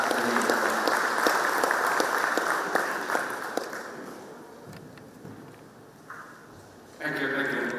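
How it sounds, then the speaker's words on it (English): An audience at an L&T EduTech event applauds, with dense, steady clapping that fades gradually over several seconds, then swells again with crowd noise and a voice near the end. "A big round of applause to invite"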